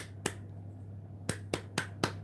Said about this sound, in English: It's a weird clapping.